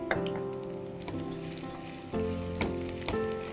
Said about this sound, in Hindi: अब साथ में हम डाल देंगे ये प्याज, तकरीबन 2 बारीक कटी हुई प्याज।